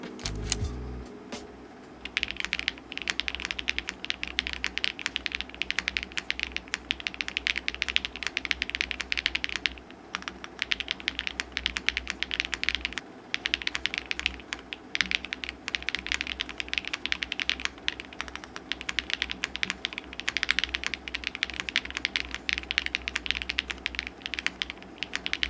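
Typing test on a Meletrix Zoom65 V3 mechanical 65% keyboard: a dense, continuous stream of rapid keystrokes, close and fairly loud, with brief pauses between bursts and a steady clacky rhythm throughout.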